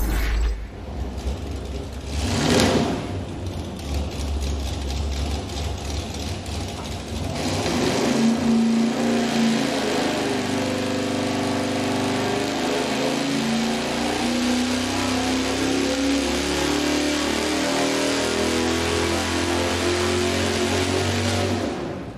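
A V8 engine on a dyno runs hard at high RPM with a hotter ignition coil fitted and a high-RPM misfire suspected in the distributor, a loud sustained roar that builds after a brief lull and holds steady with no voices.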